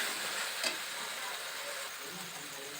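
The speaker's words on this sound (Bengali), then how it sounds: "মশলা ভালোভাবে কষিয়ে নিয়েছি" Spice paste for a chicken curry sizzles steadily in a pan, a soft continuous frying hiss with one brief stir-like scrape, fairly quiet and free of talk.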